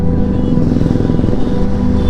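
A motorcycle engine idling steadily up close with a low, even throbbing rumble.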